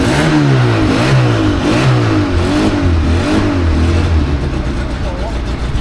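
A two-door car's engine revs repeatedly in rising and falling sweeps, loud and close, with a small exhaust leak, while people talk over it.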